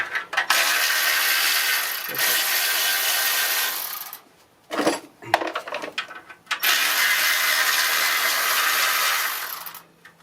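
A Milwaukee power tool spins off exhaust manifold bolts on a 1996 Honda Civic, heard as loud sustained mechanical whirring and rattling in two long bursts, separated by a short pause filled with clanks and handling noises.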